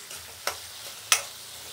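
Peeled garlic cloves drop into hot tempering oil, two sharp bursts of sizzle a beat apart over a faint background hiss, close and alone.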